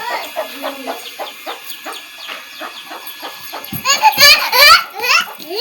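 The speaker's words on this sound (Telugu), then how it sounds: "మా ఇంటి పక్కన ఉన్న ఖాళీ ప్లేస్లో కోళ్ళు అయితే ఎట్లా మంచిగా ఎంజాయ్ చేస్తున్నాయో." Chickens cluck in an open yard beside a village house, a steady run of short, rhythmic clucks nearby, rising into louder, busier calling toward the end, with children's voices mixed in.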